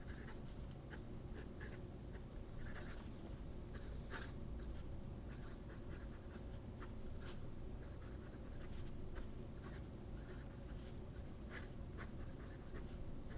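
A Yowo fountain pen with a 14 karat, very wet medium nib writes across paper, a steady, quiet scratching with small stroke accents running throughout, no voices.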